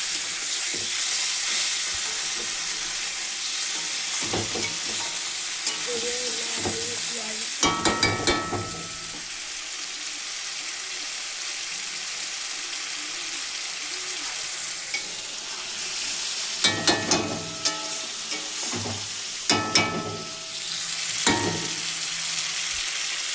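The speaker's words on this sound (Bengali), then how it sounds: "তুলে দিলাম মাছটা, কষাতে থাকবো, জল দেবো না, একটু জল বেরোবে।" Bombay duck (lote) fish sautéing in a pan gives a steady sizzle and hiss, broken by bursts of clattering stirring strokes, heard close with no talking.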